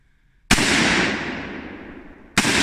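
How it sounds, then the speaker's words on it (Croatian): Two loud, sharp gunshots from a Pietta Chronos .308 Win rifle at a target range, each a sudden blast followed by a long rolling echo, about two seconds apart. "naš strelac će sada ispaliti 3 metka u metu."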